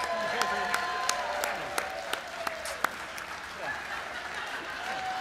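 Applause from a convention meeting audience, moderate and steady throughout with sharp individual claps standing out near the microphone, and a faint tonal hum or murmur running underneath.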